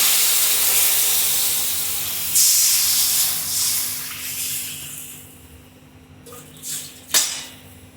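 Water poured into hot oil with chili powder gives a loud hiss that gradually fades, ending with a couple of sharp sputters.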